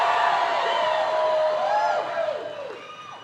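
Political rally crowd in Asheville, North Carolina, cheering and whooping loudly, a sustained roar with whistles that holds steady and then fades toward the end.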